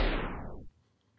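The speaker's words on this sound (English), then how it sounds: "The stopper effect simulates a tape slowing down" A loud sound sweeps steadily downward in pitch over about two-thirds of a second as a tape slow-down stopper effect with a long ramp, like a tape grinding to a halt, then cuts to near silence.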